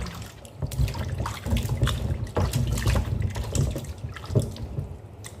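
Cucumbers being washed under a running kitchen tap, water splashing and gurgling steadily in a sink with irregular spatters and drips as the vegetables are handled, close and moderately loud.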